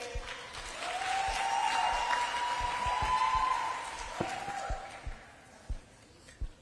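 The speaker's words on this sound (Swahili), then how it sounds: "Makofi kwake." An audience at the Nairobi Aviation College graduation ceremony breaks into sustained applause that swells, holds for a few seconds, then thins out into scattered claps and thumps.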